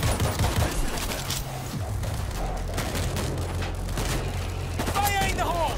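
Gunfire at zombies in the video game World War Z, a dense continuous rattle of shots and rumbling booms, with voices calling out over it.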